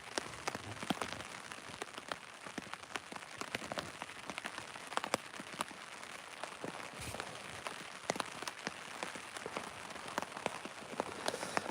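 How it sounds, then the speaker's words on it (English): Heavy rain patters densely on a tarp, a constant hiss broken by sharper drips and splats close by, with no voices. "I can hear my tarp pooling up with water, and then, like, the pools are overflowing"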